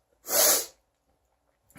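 A single loud, close sneeze bursts out and fades within about half a second, followed by near silence and a faint breath at the end.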